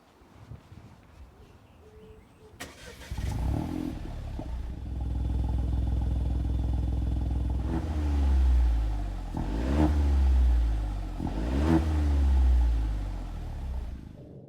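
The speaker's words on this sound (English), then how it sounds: "you also get twin tailpipes, and I've been pleasantly surprised at what these sound like considering the small engine." Small petrol engine of a DS3 car breathing through twin tailpipes: it starts with a sharp catch, settles into a steady idle, then gives three quick revs that rise and fall, each ending in a low burble.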